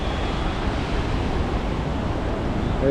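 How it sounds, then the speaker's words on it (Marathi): Steady, loud broadband rush of a fast-flowing, boulder-strewn river at Manikaran near Manali, filling the whole clip, constant and close, with no voices. "कसलं पाणी ते वाहते जोरात एकदम"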